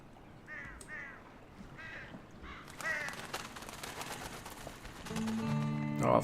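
Several crows caw in repeated harsh bursts across a Red Dead Redemption 2 game scene, with a steady ambient bed underneath and a brief electronic tone near the end.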